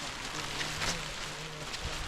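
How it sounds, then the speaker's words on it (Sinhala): Heavy rain pours steadily during a climb up Adams Peak in Sri Lanka, a dense, even hiss that fills the short stretch without a break. "මේ හොඳට වහිනවා."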